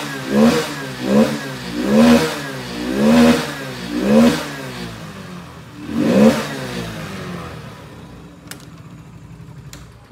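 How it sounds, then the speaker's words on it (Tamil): A Hero Splendor Plus BS6 motorcycle with a starting and jerking fault starts and revs up in five or six sharp, rising bursts. Each burst falls back toward idle before the engine settles into a low, uneven idle. "நம்ம மறுபடியும் வந்து ஸ்டார்ட் பண்ணுறோம். ஸ்டார்ட் பண்ணிவிட்டு நம்ம ரைஸ் பண்ணுறோம்."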